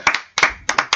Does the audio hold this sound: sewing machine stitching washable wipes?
no